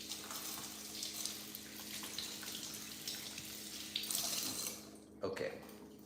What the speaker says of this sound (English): Let me just rinse this real quick.